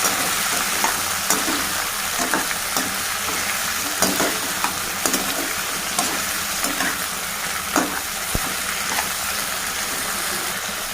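Fenugreek seeds, onion and tomato frying in oil with mustard and cumin for an okra curry, loud steady sizzling with intermittent stirring scrapes and taps in the pan, no talking.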